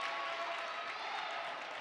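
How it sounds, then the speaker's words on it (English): Crowd at a high school volleyball quarterfinal clapping and cheering in a gym, a steady, even spread of applause that stays faint and distant for the whole moment with no voices standing out. "And the crowd is showing their appreciation"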